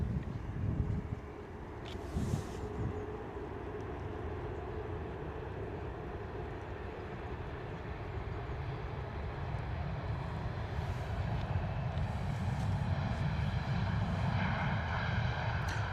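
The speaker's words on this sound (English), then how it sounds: "Here we go, Ryanair coming in from Milan." A Ryanair plane arriving from Milan at London Stansted Airport gives a steady, moderately distant engine roar that swells slightly toward the end, with wind rumble and no talking.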